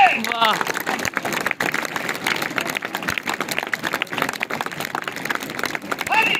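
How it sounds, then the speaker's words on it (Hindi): School audience in a hall applauding a magician's trick, a dense patter of many clapping hands with scattered sharp claps standing out, under a performer's voice at the start and end. "अगर मैं दोबारा से इसकी फोल्डिंग खोलता हूं तो देखते ही देखते आपकी तालियां बजेंगी जोर से"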